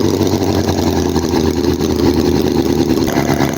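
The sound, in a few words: HOLT H75 Chinese vintage four-cylinder model engine running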